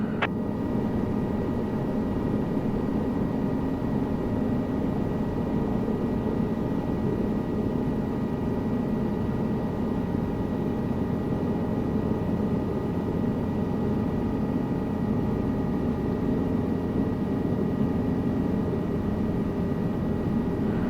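Helicopter in Microsoft Flight Simulator 2024 during a hover exercise near trees: a steady, droning rotor and engine hum with a constant tonal whine, unbroken and even in level throughout.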